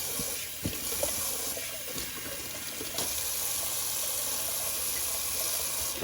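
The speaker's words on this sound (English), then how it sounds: "Alrighty, the cold water rinse." Cold tap water runs steadily into a sink for a shaving rinse, a constant close hiss with a few small clinks and splashes.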